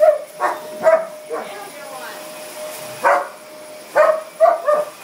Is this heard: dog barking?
yes